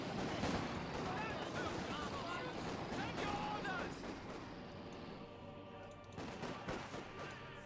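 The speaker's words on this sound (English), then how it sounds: "Universal Carrier takes another hit from the cannon effort, but once more survives" Battle sounds from Company of Heroes 2: steady gunfire and cannon blasts hitting a Universal Carrier on a busy battlefield, a dense continuous din that eases slightly toward the end, with a commentator talking over it.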